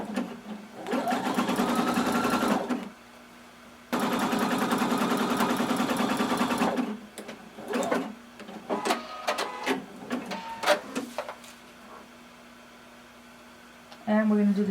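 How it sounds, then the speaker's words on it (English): A sewing machine stitches a row along a seam line on swimwear in two loud, steady bursts, followed by scattered handling clicks and intermittent speech. "sewing 3/8 of an inch from that seam line, we're going to do a row of stitching."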